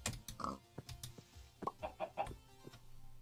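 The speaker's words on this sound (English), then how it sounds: "We've got regular chickens in here." Chickens in the Minecraft video game cluck in a quick series of short, close, bright clucks and squawks with no talk over them.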